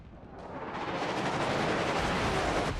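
Broadside from the battleship Lyon's sixteen 14-inch guns in a naval video game, a sustained, heavy rumbling roar of gunfire that builds and holds loud for the whole stretch, with no voices over it.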